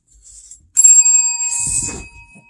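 A bicycle-style bell is struck once by a trained dog, giving a loud bright ring that sustains and slowly fades, preceded by faint shuffling and followed by a brief soft rustle.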